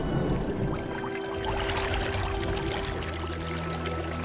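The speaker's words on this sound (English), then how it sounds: "Toba, who was working in the fields, was shocked to see the flood coming towards him" Flood water rushing through a valley as a sound effect in an animated retelling of the Lake Toba legend, a loud continuous pouring roar with churning, splashing texture and a faint steady tone underneath.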